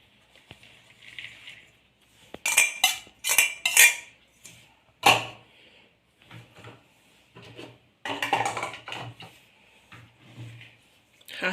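Gram flour and fenugreek leaves mixed in a bowl in a home kitchen, with bursts of spoon-on-bowl clinking and scraping that come and go in separate clusters, close and fairly loud with quiet gaps between.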